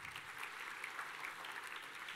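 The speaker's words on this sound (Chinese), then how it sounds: "啊，掌声继续。" Soft, distant applause from an audience at a company presentation, an even patter of clapping lasting a couple of seconds with no talk.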